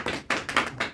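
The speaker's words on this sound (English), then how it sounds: "Clapping." An audience claps in short, sparse bursts of a few hands, fairly close and moderately loud.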